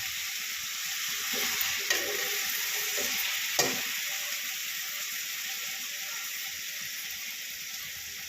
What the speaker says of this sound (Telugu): ఇప్పుడు వాటర్ వేసుకొని ఇప్పుడు వాటర్ వేసుకుని